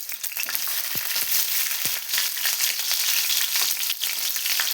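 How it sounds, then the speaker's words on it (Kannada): Onion, mustard seeds and dried Byadgi chillies frying in oil in a pan, a steady broadband sizzle with a few soft stirring knocks near the start, close and continuous with no talk. "ಒಣಮೆಣಸಿನಕಾಯಿ, ಬ್ಯಾಡಗೆ ಮೆಣಸಿನಕಾಯಿ ಹಾಕೊಂಡು ಫ್ರೈ ಮಾಡ್ಕೊಳ್ಳೋಣ"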